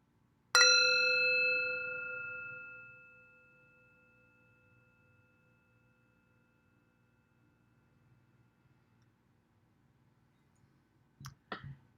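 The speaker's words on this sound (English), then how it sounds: "So here's the gong on metal." A metal gong is struck once, ringing out with a bright, sustained tone that slowly decays over several seconds into near silence, followed by a couple of faint clicks at the end.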